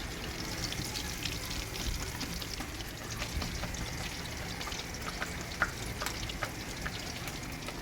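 Fish frying on a hot tava with a continuous soft crackle and sputter of oil, dotted with small pops and one sharper snap, fairly quiet and steady with no talking.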